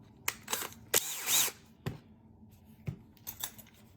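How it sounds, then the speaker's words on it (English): Brief bursts of a small power drill spinning a nail punch, several short spins and clicks close by, separated by quiet gaps. "I'm going to use the nail punch, and I'm going to put it in the drill."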